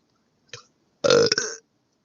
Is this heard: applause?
no